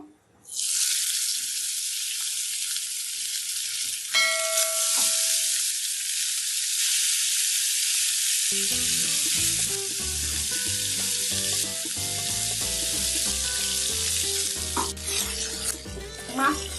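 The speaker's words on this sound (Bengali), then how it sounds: "এখন আমি মাছটা দিয়ে নেব" Poya fish hits hot oil seasoned with cumin, bay leaf and dried chillies, giving a loud, steady sizzle that runs throughout, with clinks and scraping stirring noises joining in the second half.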